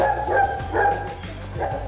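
Pointer dogs bark repeatedly in a kennel, several loud, close yelping bursts overlapping one another in an uneven rhythm with no pause between them.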